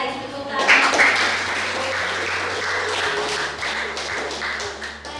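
A school class applauds after a lesson presentation at a vocational high school, brisk clapping from a room of students that starts sharply and carries on steadily to the end.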